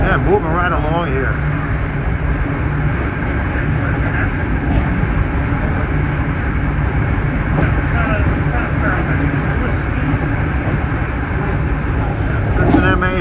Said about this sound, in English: That's an M8 heading for Stanford.